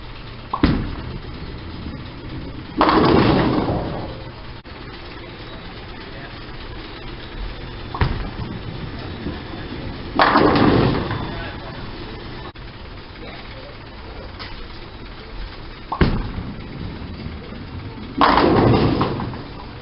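Bowling balls from a Motiv arsenal roll down the lane and crash into the pins, several separate strikes spaced a few seconds apart, each a rumbling roll ending in a bright clatter over steady background noise, with voices around.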